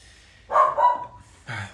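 Dogs bark in a few sharp close bursts, two quick barks followed by another after a short pause.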